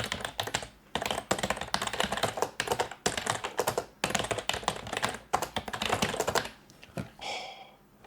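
Typing on a computer keyboard at a PC build setup, with dense bursts of clicky keystrokes in quick rhythmic runs and short pauses between them, close and clear.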